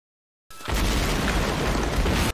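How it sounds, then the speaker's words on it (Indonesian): A landmine blast in a television drama scene erupts suddenly after half a second of silence into a loud, sustained, rumbling boom that stays heavy and dense until the end. "terkejut dengan ledakan ranjau di dekatnya"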